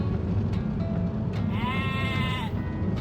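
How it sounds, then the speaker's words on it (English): A single drawn-out sheep bleat rises clearly in a pasture for about a second, over a steady low rumble of background noise. "So many sheep."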